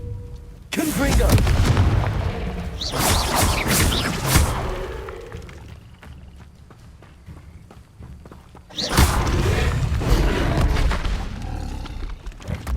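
Confringo fire spell casts in the Hogwarts Legacy video game: two loud bursts of booming, crackling explosive impact, the first lasting several seconds and the second arriving near the ninth second, with quieter combat noise between them.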